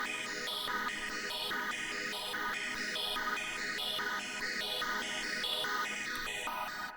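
A Serum synth preset with no effects beyond EQ and most of the low end cut, for a hard beat in FL Studio 20; a dense, steady pulsing chordal tone fills the stretch alone, evenly loud throughout.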